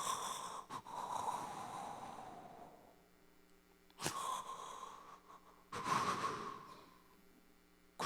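A preacher's voice imitates the labored, wheezing breathing of someone with failing heart valves: three long, raspy, strained breaths with short silent pauses between them.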